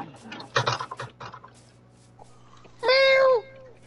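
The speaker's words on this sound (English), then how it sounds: "Oh, stop meowing, bro." A cat in a video game gives a loud, drawn-out meow near the end, after softer scattered clicks and rustles.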